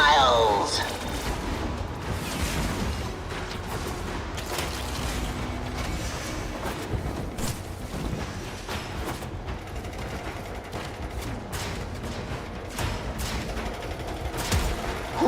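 Missile fire and explosions in the Warframe video game, a dense, continuous barrage of booms and blasts layered under game music, steady and loud throughout.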